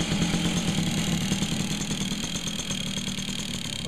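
A Motobecane moped engine idles steadily close by, with an even, putt-putting rumble and a faint high whine over it.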